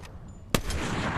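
Video game gunfire from Fortnite Zero Builds: a sharp nearby shot cracks out, followed by a softer second report and lingering noise, all within a brief burst.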